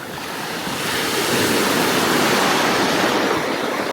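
Ocean surf rolls in at the water's edge on Sunset Beach on Oʻahu's North Shore, a loud, close wash that swells and holds as a wave breaks, with wind rumbling against the microphone.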